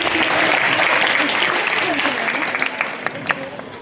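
Sustained applause from a school assembly crowd honoring girls' board exam results, steady and full for several seconds before tapering slightly with a few sharper claps near the end.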